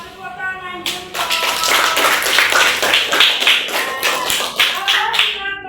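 A classroom of children clapping their hands together, a dense burst of overlapping claps and taps that swells in, holds steady and ragged for several seconds, with a teacher's voice heard just before it starts.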